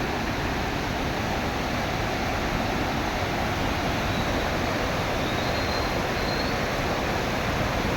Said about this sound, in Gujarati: આ સુપ્રેમ નદી છે, બે કાંઠે આવી જાય છે અને ટોલગેટમાં ઘોડાપુર આવી ગયું છે, બહુ પાણી છે